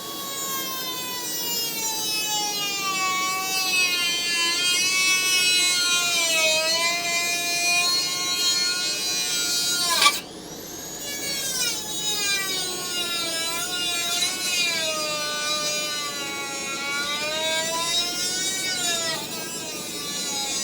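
An angle grinder cuts a rusty piece off a Crew Cab Charger, a loud, steady, high-pitched whine that wavers in pitch, briefly drops off midway, then resumes cutting.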